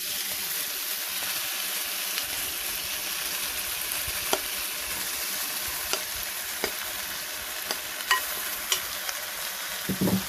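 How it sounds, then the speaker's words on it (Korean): Seasoned kimchi stir-fried in scallion-garlic oil, for tofu kimchi, makes a constant close sizzle broken by irregular spatula scrapes and light clicks against the pan. "김치를 넣고 볶아주세요"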